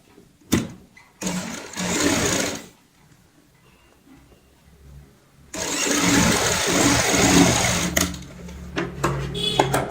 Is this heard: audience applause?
no